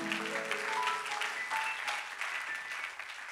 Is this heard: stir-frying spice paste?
no